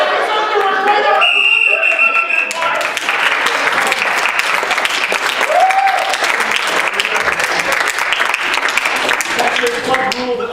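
A crowd claps loudly and continuously at a club games event, with cheering voices and chatter mixed in and a few electronic tones over the steady wash of applause.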